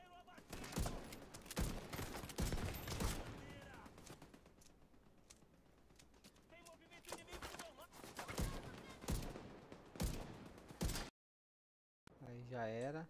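Turret gunfire in the video game The Division 2 rattles out in loud, repeated bursts across the scene, separated by short lulls, with a brief dropout near the end.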